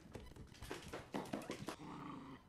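A dog growls and snarls in a horror film soundtrack, a continuous low rumbling growl with sharper rising bursts, fairly close, ending in a sustained snarl.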